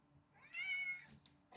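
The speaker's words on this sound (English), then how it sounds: "Did you guys get the little meow?" A cat gives a single soft, short meow, quiet and close, with faint room noise around it.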